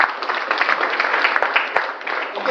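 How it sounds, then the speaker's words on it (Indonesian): Audience at an indoor product presentation gives a sustained round of applause, loud, dense clapping from many hands that carries on at an even level with a slightly boxy, bandlimited tone. "berikan tepuk yang luar biasa untuk para pengundangannya"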